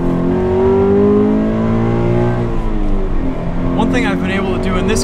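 A 2017 Toyota 86 accelerates hard on a race track, its engine note climbing steadily through the revs, loud and close from inside the car, with a voice talking over it.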